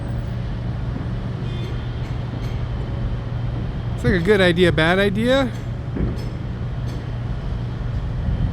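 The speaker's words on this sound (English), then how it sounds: "here's the downtown train pulling into Strathearn Station on its way to Millwoods." A downtown light-rail train heading to Millwoods pulls into Strathearn Station, its rising and falling tonal whine sweeping for about a second over steady low rumble while someone talks nearby.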